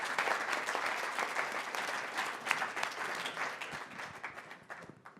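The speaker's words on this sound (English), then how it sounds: "I think we just need to give another round of applause to everyone who has spoken so far." Audience applause at an evening online-education talk, steady dense clapping from a crowd that fades slightly toward the end, fairly quiet and without voices.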